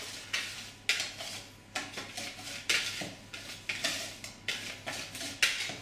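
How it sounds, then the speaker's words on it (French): A whisk beats clafoutis batter made with almond powder in a bowl, giving repeated scraping and clinking strokes in a steady rhythm, close and fairly loud, with no talking. "Donc pour éviter ça, je mélange bien au fouet."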